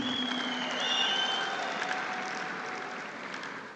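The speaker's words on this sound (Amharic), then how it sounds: "እስቲ አንድ ጊዜ አጨብጭቡ ፕሊዝ።" An audience at the 2025 Ethiopian TikTok creative awards ceremony applauds in a steady, moderately distant wash of clapping, with soft sustained musical tones beneath that fade slightly toward the end.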